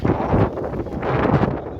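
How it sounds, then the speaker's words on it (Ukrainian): Very strong wind buffets the microphone on a spit of the Tylihul estuary lagoon, a loud continuous rumbling roar that surges and gusts, with no voices. "Дуже-дуже сильний, сильний вітер."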